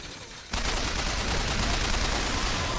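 Sustained, rapid gunfire hammers at a turret inside a factory in Bioshock Infinite on 1999 Mode. It breaks out abruptly after a few faint taps and continues as a loud, dense fusillade.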